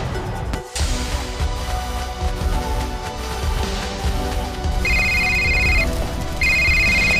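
A phone rings twice in short electronic bursts, the tone cutting in clearly over a steady background hum.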